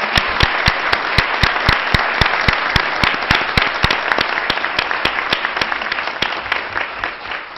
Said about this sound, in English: a nice round of applause for them as well